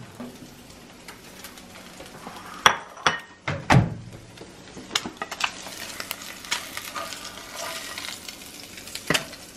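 Eggs frying in a pan, a constant close sizzle broken by sharp clanks and scrapes of a utensil against the pan, no voices.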